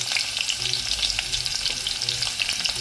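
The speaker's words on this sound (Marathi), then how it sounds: "आता कोथिंबीरीनंतर आपण हा जो कांदा बारीक चिरून घेतलाय तो संपूर्ण आता यामध्ये घालायचा आहे" Finely chopped onion sizzles steadily in hot oil tempering for a mushroom masala, with a bright continuous crackle and occasional soft stirring scrapes, close and unvoiced.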